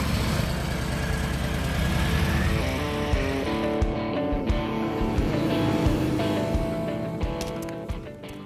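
A 2020 Harley-Davidson Low Rider S motorcycle out on a ride, its engine droning loud and steady with shifting tones and wind rush, easing off slightly near the end, with no talking.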